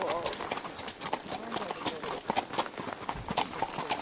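Horses clip-clopping along at a walk, mares and geldings moving together, with steady overlapping hoof strikes on hard ground while people talk nearby, at Moses Cone in Blowing Rock, North Carolina.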